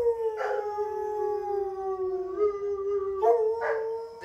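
Dogs at an animal refuge kennel let out a long, sustained howl that slowly falls in pitch, with a couple of short yelps and other voices breaking in close by.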